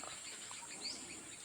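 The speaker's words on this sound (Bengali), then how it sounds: "পাখির ডাক" Faint, high chirping calls from small birds over a soft, steady outdoor hiss; short scattered notes, distant and quiet.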